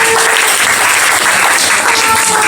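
Church congregation at an evangelical assembly applauding, loud, dense and sustained clapping close by, filling the space.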